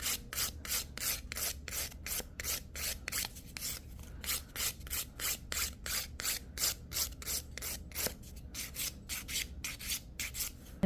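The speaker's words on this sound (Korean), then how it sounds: "이렇게 갈다 보면 울퉁불퉁한 부분이 있어요." Rapid, steady back-and-forth rasping of a nail file smoothing the uneven surface of a gel nail extension on a curved nail, close and dry, a continuous rhythmic scrape with no talking.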